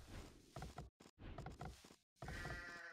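Sheep in Age of Empires II bleat in short repeated calls over dense game audio with brief silent gaps between them, fairly loud and close.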